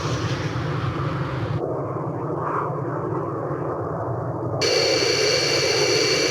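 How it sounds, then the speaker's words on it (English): Allied transport planes flying in the Ace Combat Zero flight game, a steady broad jet-engine roar that holds throughout and swells louder near the end, continuous without pauses. "It's the Allied transport planes."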